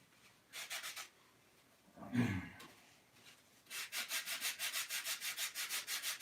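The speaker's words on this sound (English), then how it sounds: "he's using the whole sanding roll right there to sand with" Wood is sanded with a whole sanding roll in a woodworking shop: a short rub, a louder scrape, then a fast run of about a dozen rhythmic back-and-forth strokes, close and clear.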